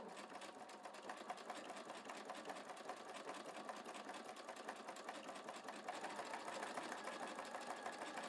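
A sewing machine fitted with a wing needle stitches slowly at a steady, even hum with a fine rapid needle rhythm, close and fairly quiet, speeding up slightly near the end, with no talking.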